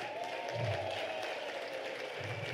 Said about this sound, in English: May we give them a round of applause, colleagues